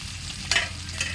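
Kanangatha fish frying in a pan, a steady hiss of hot oil with a few louder spoon clatters and bursts of sizzle mixed in, close and alone without voices.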